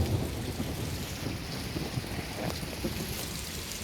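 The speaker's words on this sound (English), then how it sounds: "The thunder was very loud. Sounded like an explosion." Heavy rain pours down during a thunderstorm, with a deep rumble of thunder underneath; a steady, dense downpour fills the whole stretch at close range, no voices.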